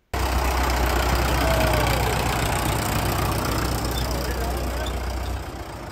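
A tractor engine idles and rumbles close by on a farm for several seconds, with a low, even throb and no voices.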